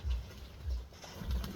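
Pigeons coo in low, soft pulses, three deep rhythmic hoots spaced evenly over a quiet background hum, fairly close but gentle.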